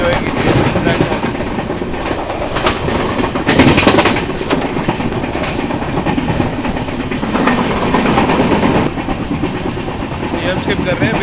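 Steady clickety-clack of a Trivandrum Rajdhani Express (12431) coach rolling over rails, loud and continuous with rhythmic wheel thumps and brief surges of rushing noise.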